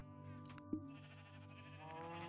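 A single sheep bleat sounds in the video game Minecraft, one short, faint call over steady background game tones.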